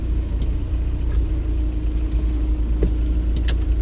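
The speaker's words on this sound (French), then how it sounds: "On passe dans l'eau. Le niveau est assez haut." A car drives through deep floodwater on a road at Rivière Salée, holding a constant engine speed. A loud, steady low rumble of engine and road noise fills the whole stretch, with scattered sharper splashy hits over it.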